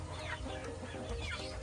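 Backyard chickens from a small breeding flock cluck at close range, a steady overlapping murmur of soft clucks with a few louder calls over constant low background noise.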